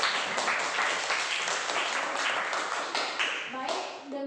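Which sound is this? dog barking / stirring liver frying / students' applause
students' applause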